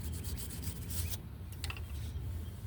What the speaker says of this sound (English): clean these grooves in your caliper brackets